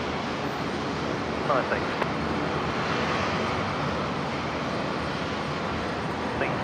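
A Jetstar airliner in its new livery roars steadily at Brisbane International Airport, a loud broad engine rumble that holds throughout, with a brief voice speaking over it.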